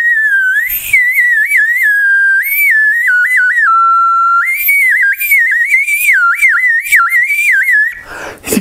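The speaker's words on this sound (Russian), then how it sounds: "Соловей, наверное, тоже свистит." A Mexican clay nightingale whistle toy is blown, giving a loud, close warbling tone that wavers and trills up and down in continuous phrases with brief breaths between, alone without talk.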